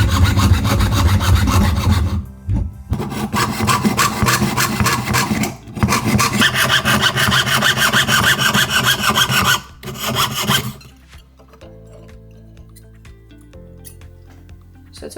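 A hand file rasps across a small metal jewellery piece for a handmade necklace in loud, close, continuous strokes with a few short breaks, then the filing stops and only quieter handling remains.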